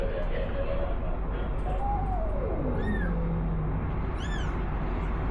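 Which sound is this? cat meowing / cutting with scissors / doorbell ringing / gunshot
cat meowing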